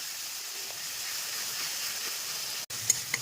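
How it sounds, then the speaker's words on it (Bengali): Steady hissing of onion paste frying in oil, fairly even throughout, with a brief dropout and a couple of small clicks near the end. "পেঁয়াজ বাটাটা দিয়ে খুব ভালো করে কষিয়ে নেবো পেঁয়াজটাকে আগে"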